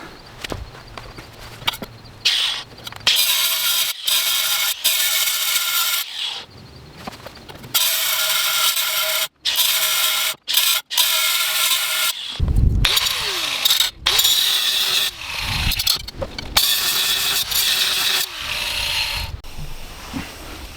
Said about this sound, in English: I got a 4-inch grinding wheel. We're going to go in here after these welds.